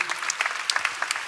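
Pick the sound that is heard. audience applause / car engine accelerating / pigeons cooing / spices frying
audience applause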